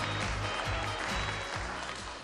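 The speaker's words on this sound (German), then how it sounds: "Deswegen bekamen zuerst einmal die Sponsoren einen kräftigen" School children applaud the sponsors, a dense, loud round of clapping from many small hands in a hall, steady throughout and tapering slightly at the close.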